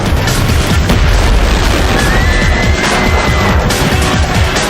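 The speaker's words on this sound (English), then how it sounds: "A chain of firecrackers ignites the statue, but 4 seconds into the burn, it explodes." A statue set alight by a chain of firecrackers explodes in a loud, sustained roaring blast with crackling debris, dense and continuous from start to finish.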